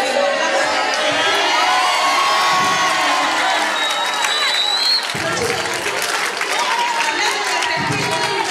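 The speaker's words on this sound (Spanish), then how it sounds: "cuando están todos gritando como locos" A large crowd of young people at a school remembrance event shouting, cheering and whooping loudly and continuously, a dense roar of voices with scattered applause filling the space throughout.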